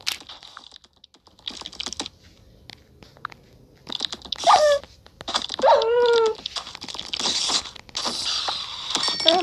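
Whimpers and short whines from a dog in the Minecraft video game rise over a busy layer of rapid keyboard clicks and mouse taps, the whines coming in several brief bursts near the middle.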